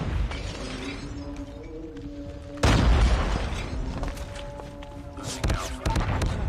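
Loud booming blast from a hunter-killer drone strike in a first-person shooter video game, a sudden burst near the middle followed by a second impact, over continuous battle noise and game announcer chatter.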